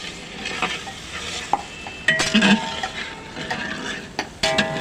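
Gujarati vaghareli khichdi sizzles in a pan while a spoon stirs and scrapes, with clinks of utensil on metal breaking up the steady frying.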